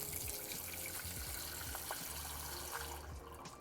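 A kitchen tap runs hot water into a small pot, a steady, unbroken splashing stream that stays close and even throughout, easing slightly near the end, with no talking.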